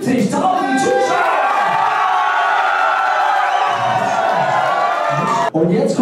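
A packed Allianz Arena crowd of about 75,000 roars and cheers loudly for several seconds, a dense, sustained wall of voices with shouts and whoops rising above it before cutting off abruptly near the end.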